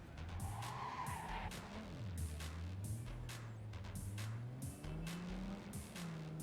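Car driving in Cyberpunk 2077 skids repeatedly, a steady engine drone wavering in pitch beneath a string of bursts of tire screech, loud and close throughout.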